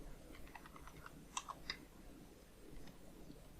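Faint clicks of a computer keyboard as a few keys are tapped in a short, irregular burst over a quiet room hum.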